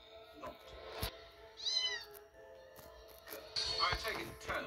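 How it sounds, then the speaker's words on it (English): Several kittens meow in short, high-pitched bursts, some close and some further off, in a room with background noise and brief talking nearby. "It's the kittens."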